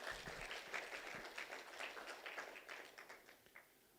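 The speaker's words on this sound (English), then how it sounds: "Let's give them both a proper round of applause." Audience applause at a business idea session on gender-based violence, a modest scattering of claps that is fairly quiet and fades toward the end, with no talk over it.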